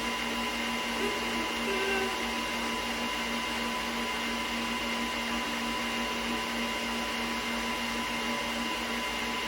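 Steady, unbroken motor whine of an electric mixer beating flourless bread batter, close and constant throughout with a fixed mechanical hum.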